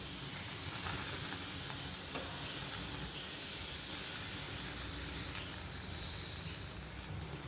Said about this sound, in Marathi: मिडियम गॅसवरती हे टोमॅटो आपल्याला भाजून घ्यायचे आहे